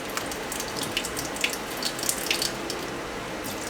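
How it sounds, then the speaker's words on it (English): A bathroom tap left running in a small, steady stream, a soft continuous hiss of water with faint splashes into the sink, close and unbroken. "I'm gonna leave the water going for a little bit."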